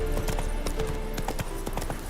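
Hooves of Roach, the horse in The Witcher 3: Wild Hunt (Hearts of Stone), clip-clop in a steady trotting rhythm with distinct evenly spaced knocks over a constant low ambient bed.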